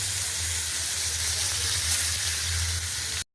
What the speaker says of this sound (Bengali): আর দিয়ে দিতেছি মাছগুলা এক এক করে সম্পূর্ণ মাছ